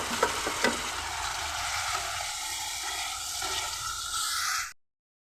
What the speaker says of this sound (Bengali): দেওয়ার পর অল্প কিছুটা জল দিয়ে দিচ্ছি না হয় মশলাটা পুড়ে যাবে